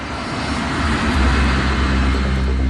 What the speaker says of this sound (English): the data recorder reveals that Van Zanten has already begun to accelerate